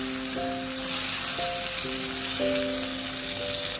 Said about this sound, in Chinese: 炒香之后再把西红柿加进来，